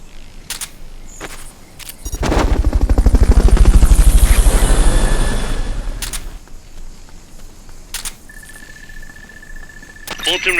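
A Fulton recovery helicopter's rotor in Metal Gear Solid Peace Walker thumps up loud and close for a few seconds, then fades, with game sound effects, a short tone, and clicks around it.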